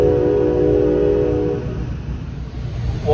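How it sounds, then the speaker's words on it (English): A Metra Rock Island District commuter train pulls into a station, its steady rumble and a sustained horn-like tonal blast filling the first half, then continuing as a lower rolling rumble with a brief squeal near the end. "Shortly before departure, a Rock Island District train pulls in."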